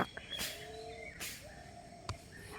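A distant bird calls a few times, faint whistled tones drifting through a quiet outdoor background with occasional soft rustles.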